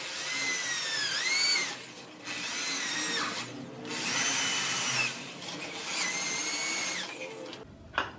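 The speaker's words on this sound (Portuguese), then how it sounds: "você vai centralizar a broca o máximo que você puder em pé e vai furar até o limite." A power drill boring dowel holes into wood for a woodworking joint, three long loud whining runs with a rising-falling pitch, each separated by brief pauses, ending with a short knock.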